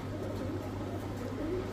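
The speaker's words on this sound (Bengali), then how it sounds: "এই যে দেখেন কবুতরটা ছটফট" A green-eyed racer pigeon coos softly and stirs close by, a low, quiet murmur over faint background noise.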